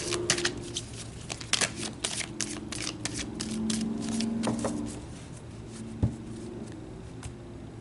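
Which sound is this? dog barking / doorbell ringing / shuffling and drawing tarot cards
shuffling and drawing tarot cards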